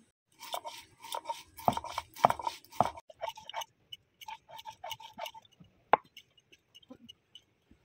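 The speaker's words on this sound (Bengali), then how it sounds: "গোটা জিরে, ধনে, মৌরি, সর্ষে সবগুলোকে বেটে নিচ্ছি একসঙ্গে।" Whole cumin, coriander, fennel and mustard seeds are ground together into a spice paste, giving irregular crunchy, knocking strokes with short pauses and a few sharper cracks.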